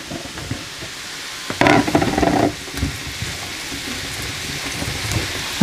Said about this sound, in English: And then I'm going to add my mushrooms in, and we're going to cook these for about 5 minutes.